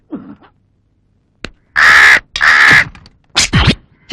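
A crow caws several times: a short faint call at the start, then after a pause two loud, harsh caws in quick succession and a final clipped pair of caws, all close and clear with no speech.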